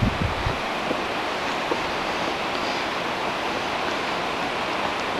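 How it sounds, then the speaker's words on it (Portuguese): Steady broadband rush of water from a waterfall hidden out of sight beside a railway trail, a continuous even roar with no distinct splashes, heard from a distance. "Ao fundo, um barulho da água. Uma cachoeira bem aqui na..."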